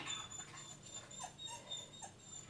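A nervous, sensitive dog whimpers indoors in a room in Edmundston, New Brunswick, with several soft, high, wavering whines between quiet breaths, close and faint.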